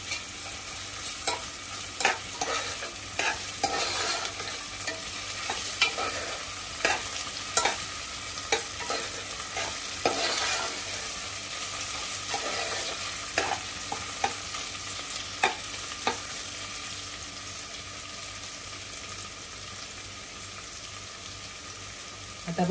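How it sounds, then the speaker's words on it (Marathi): Ginger garlic paste sizzling in a pan with onions while a spoon stirs, a steady close fry broken by regular scraping strokes and clicks, with no talk. "आता आपण आलं लसूण पेस्ट घालूया, म्हणजे कांद्याबरोबर शिजली जाईल।"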